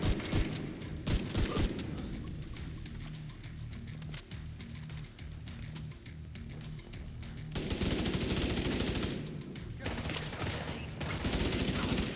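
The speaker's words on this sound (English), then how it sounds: "Putting my lovely shotgun to use." Shotgun fire in the video game The Division 2: many sharp shots close together, interleaved with other in-game gunfire and combat noise, loud and near throughout.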